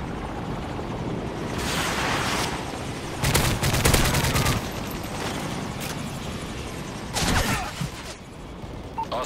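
An Osprey Gunner aircraft arriving in a first-person shooter match, its rotor drone running steadily under bursts of rapid gunfire and occasional booms, loud and close, with no voices heard.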